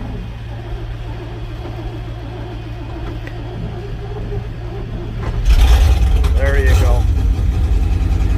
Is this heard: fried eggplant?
no